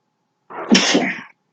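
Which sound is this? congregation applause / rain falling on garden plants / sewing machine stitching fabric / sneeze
sneeze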